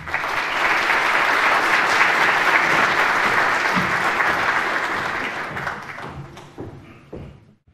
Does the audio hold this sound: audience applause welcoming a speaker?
yes